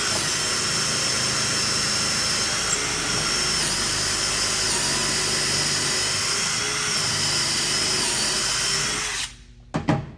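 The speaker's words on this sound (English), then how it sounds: "you run the drill bit in right here to drill the hole" A power drill whines steadily at high speed for several seconds, boring a pocket hole through a Kreg jig, close and loud, then cuts off abruptly followed by a few brief clunks.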